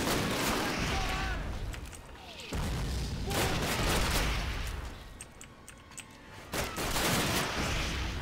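Rapid bursts of gunfire from the Call of Duty 1 video game, with heavy automatic volleys and booming shots in loud clusters separated by brief quieter gaps.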